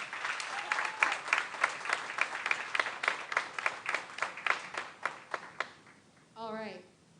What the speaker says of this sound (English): Let's give them all a round of applause one more time.